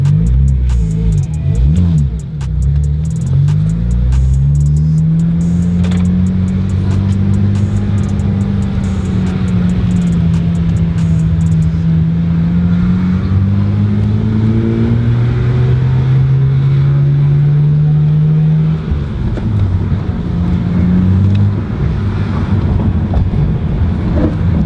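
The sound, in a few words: BMW E92 335i car driving and accelerating on test drive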